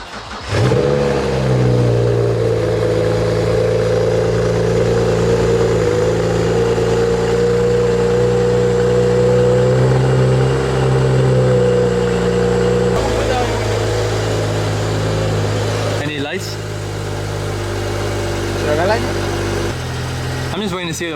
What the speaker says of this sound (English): This is a weak cold start.